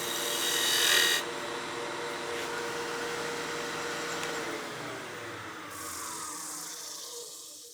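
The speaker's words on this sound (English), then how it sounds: "We'll do a slicing cut here to give us some clean fibers. And then we'll cut that to more of a dovetail profile." A woodturning tool cuts a dovetail tenon on a spinning workpiece on a lathe, a continuous close scraping rasp under a steady motor whine, with a louder burst at the start and no voices.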